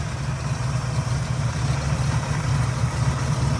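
A 1967 Ford Mustang fastback with a 289 V8, Edelbrock carburettor and headers, idles with a steady low rumble, close and continuous with no speech over it.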